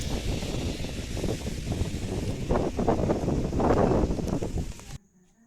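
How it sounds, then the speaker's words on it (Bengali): Steady broadband roar of heavy rain and gusting stormy wind with a swollen river rushing beneath, fairly loud and continuous, cutting off abruptly near the end. "মুসলধারে বৃষ্টি তার সাথে ঝড়ো হাওয়া তার সাথে নদীর শব্দ"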